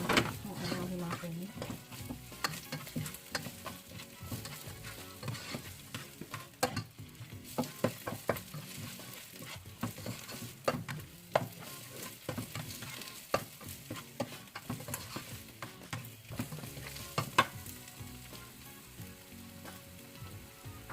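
Shiitake mushrooms stir-fry in a pan with a steady sizzle, broken by frequent scrapes and clacks of a utensil stirring close by.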